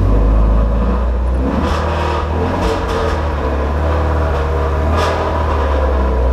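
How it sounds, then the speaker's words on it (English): A Shelby GT350 accelerates at full throttle, its engine roaring loud and steady from close range throughout, with no talk over it. "All right, we are on full acceleration right now."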